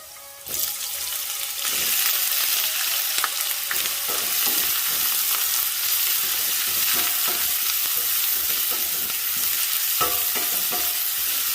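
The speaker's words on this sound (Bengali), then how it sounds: "রসুনটা আমার ব্রাউন হয়ে গেছে, এখন আমি পেঁয়াজ দিলাই" Onions dropped into hot oil with garlic already browned, a loud burst of sizzling that settles into a steady crackle with repeated stirring scrapes and clinks.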